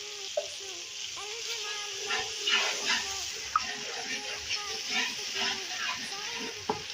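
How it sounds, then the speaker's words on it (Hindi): Garlic paste and onions frying in oil for a desi chicken and pumpkin curry, giving a steady close sizzling hiss with occasional scrapes and taps of stirring. "हाफ टेबल स्पून इसमें पेस्ट डाल रही हूँ लहसुन का।"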